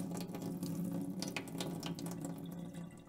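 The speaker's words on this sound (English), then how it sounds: "drain the water out of the mason jar" Water trickles and splashes as it drains out of a mason jar of soaking seeds, a steady, fairly quiet pour with small gurgles and drips close by.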